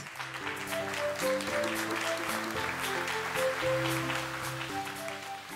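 Audience applause greets a speaker at a fintech forum in Chile, a steady patter of many hands heard beneath loud stage music with sustained tones.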